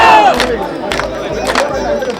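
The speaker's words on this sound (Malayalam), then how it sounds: "ക്ഷേത്ര പരിസരത്തും കരകളിലും ആഘോഷവും ആർപ്പുവിളികളും ഉയർന്നു" Crowd cheering and shouting at the Chettikulangara Bharani temple festival in Kerala, a loud dense roar of many voices with repeated rising shouts, close and continuous.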